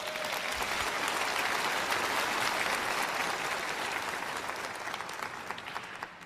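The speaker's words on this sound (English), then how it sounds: "Give the old man a round of applause." Steady audience applause at a live motivational speaking event, dense and sustained, fading slightly toward the end with no talk over it.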